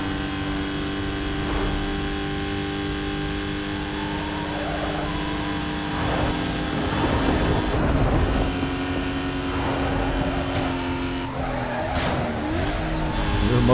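In Need for Speed Most Wanted, a car engine drones steadily at high revs while tires squeal and skid in rising, scraping bursts, loud and continuous throughout.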